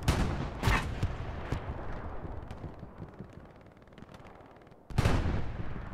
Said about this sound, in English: That is a Phoenix bombing run.